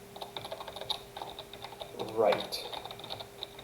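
Computer keyboard keys pressed during a Godot game tutorial, a light scatter of soft clicks with a brief denser burst of typing midway, heard under a man's speech.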